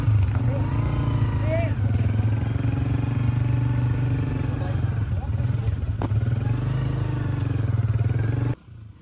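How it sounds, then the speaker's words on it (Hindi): Motorcycles run in a steady, close engine drone as they ride off from a village in the Yasin Valley, Gilgit-Baltistan, on an evening. The engine sound continues unbroken for several seconds before cutting off abruptly. "हमारे बाइक इस वक्त स्टार्ट हो गए हैं और हम यहाँ से अब निकल रहे हैं।"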